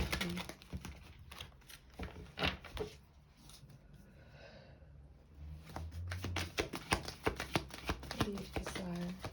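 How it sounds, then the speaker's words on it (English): Tarot cards being shuffled at close range, soft riffling and slapping bursts in quick clusters with a quieter pause in the middle, under a faint background. "One more shuffle, thank you."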